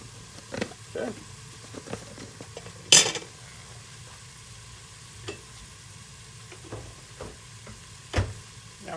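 A spoon stirs creamy New England clam chowder in a pot, with soft scraping and occasional sharp clinks against the metal sides over a low, quiet simmer.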